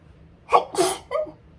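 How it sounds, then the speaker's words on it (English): A single sneeze bursts out, a quick sharp inhale followed by a loud explosive release and a brief trailing sound, close to the microphone. "And I'm about to sneeze."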